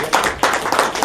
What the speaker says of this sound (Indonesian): tepuk tangan untuk Ibu Deni